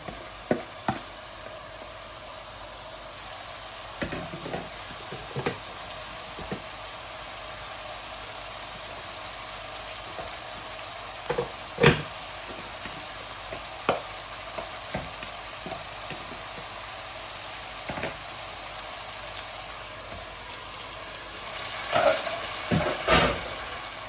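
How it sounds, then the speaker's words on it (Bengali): Chicken breast meat with white onions, chili and spices frying in a pan, a steady broad sizzle with intermittent knocks and scrapes of stirring; no talking. "এই যে আমি এখন চিকেনগুলাও দিয়ে দিচ্ছি।"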